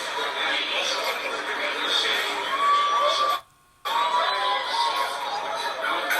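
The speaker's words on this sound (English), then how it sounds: "people were cheering because he was holding the flag at first" Crowd of protesters cheering and shouting in an empty street as a man holds a flag, a steady, dense roar of many voices that cuts out briefly and then resumes.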